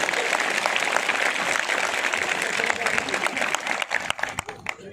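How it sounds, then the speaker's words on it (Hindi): Crowd applause at a political rally in Champawat breaks out as dense, steady clapping throughout, thinning into scattered individual claps toward the end. "तो मैं जोर से ताली बजा दो"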